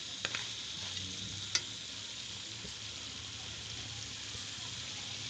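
Masala frying in a pan for chicken feet curry, a soft continuous sizzle with a few faint clicks and taps of stirring near the start, quiet and steady with no talking.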